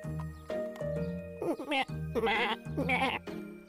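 Lambs bleat repeatedly at close range, several overlapping wavering cries in quick succession, with a faint tinkling in the background.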